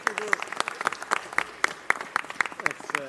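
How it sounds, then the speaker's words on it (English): A small crowd at a city council meeting gives a round of applause, sparse individual claps popping out fairly evenly while a voice keeps talking over them. "Give yourselves a round of applause."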